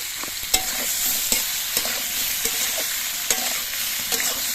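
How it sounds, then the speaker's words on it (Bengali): Potatoes and ginger fry with salt in a pan, giving a steady sizzle broken by repeated scraping stirs of a spatula, close and moderately quiet with no talking. "এবার এই আলু আদাটাগুলো কিন্তু বেশ কিছুক্ষণ ভেজে নিতে হবে আর এগুলো ভাজার সময় আমি পরিমাণ মতো নুন দিয়ে দিচ্ছি"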